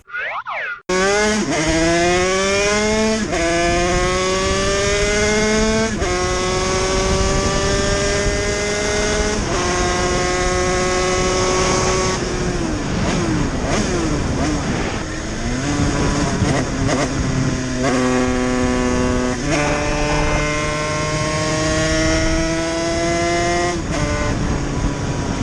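A motorcycle engine, after a piston seizure and with an unidentified noise, revs hard through a long series of rising gear changes, each climb in pitch dropping back before the next, loud and close.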